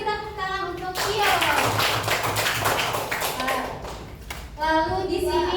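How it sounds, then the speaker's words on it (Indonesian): Elementary school pupils clap together for a classmate during a lesson, a loud burst of rapid hand claps that follows a teacher's voice, runs a few seconds and then gives way to talking again. "kita beri tepuk tangan untuk Tio."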